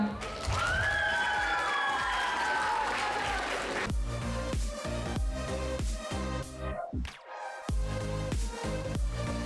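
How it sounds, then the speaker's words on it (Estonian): An audience welcomes the day's main speaker onto the stage at a talk on social media and commenters, first with a swell of crowd noise, then loud, steady rhythmic clapping in unison that briefly dips before continuing. "kutsume nüüd suure aplausiga lavale ja tänase päeva peaesineja Roosa Vananike"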